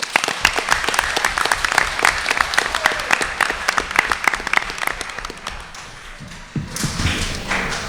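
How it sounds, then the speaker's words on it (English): An audience at a student recognition ceremony gives a sustained round of dense, loud clapping that tapers off after about six seconds before brief rustling resumes. "So round of applause."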